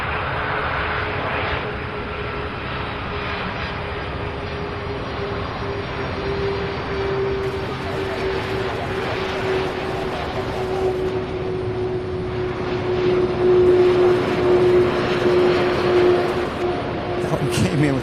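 Jet airliner departing Louisville International Airport, a steady engine roar with a rising whine that grows louder toward the end, heard from a distance with someone talking over it.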